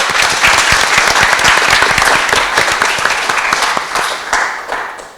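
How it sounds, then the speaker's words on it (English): A loud, full round of applause from the audience at a council homebuilding fringe meeting, with many hands clapping densely and close by, then easing off slightly in the final second. "So just a round of applause for everyone."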